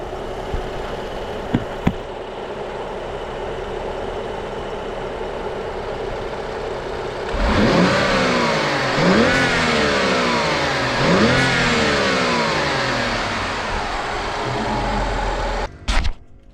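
A BMW N55 engine breathing through its stock OEM airbox idles steadily, then is blipped into three or four sharp revs that rise and fall back, loud and close with no talking.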